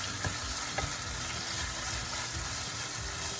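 Chicken pieces sizzle and crackle in a hot pan over medium-high heat while being stirred, a dense continuous frying hiss with a couple of soft scrapes, close and steady, no voices.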